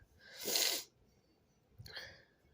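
Two sneezes close by, the first loud and forceful, the second softer after a short pause.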